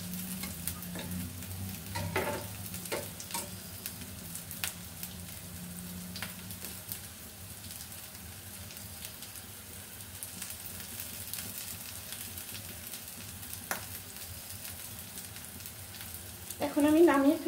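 Potato chops fry in ghee in a pan on a stove over low heat, giving a soft, steady sizzle with occasional stirring clinks. The sizzle stays quiet and continuous throughout, and the pan clatters louder right at the end.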